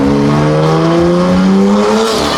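BMW M3 drifting, with a loud, close engine holding high revs as its pitch shifts, and tire squeal layered over it throughout.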